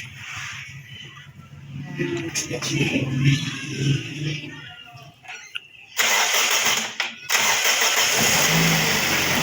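A Toyota Vios engine after an overhaul runs at a rough low idle, cuts off, then restarts with a sudden loud burst and a brief dip before settling into a steady run, close by.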